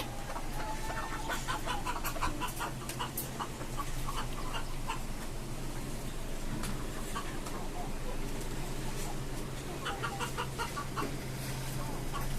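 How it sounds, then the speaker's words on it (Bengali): Desi, aseel and tiger breed chickens on a small rooftop farm, soft repeated clucking from several hens close by over a steady background hum, with bursts of clucks clustering at moments. "এখানে কিছু দেশি মুরগি আছে সাথে একটা আসলি মুরগি আছে আর কিছু টাইগার মুরগি আছে"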